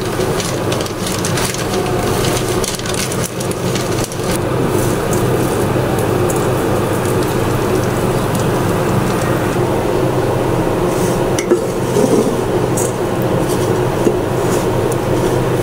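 Lightly fried vermicelli is added to a hot pan and stirred, giving a dense, steady crackling rustle with scraping, close and loud throughout, with no talk.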